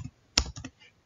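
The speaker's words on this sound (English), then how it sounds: "just type the IP address" A few crisp computer keyboard keystrokes while an IP address is typed, sharp close clicks spaced irregularly within about a second in a quiet room.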